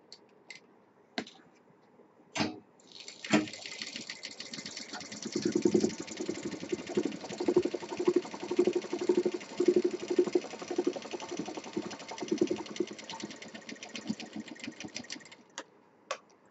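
A sewing machine stitches folded fabric for a party purse, a few handling clicks first, then a steady rapid mechanical whir running for about twelve seconds before stopping, close and moderately loud.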